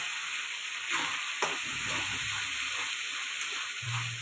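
Katla fish kalia masala with turmeric and salt being sautéed in a pan, a steady hiss of frying throughout with scattered stirring scrapes, close and fairly loud.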